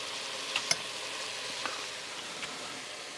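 Onions and mushrooms sizzle in a pan for a beef stroganoff, a soft steady hiss with a few faint ticks and clinks, fairly quiet and close, with no voices.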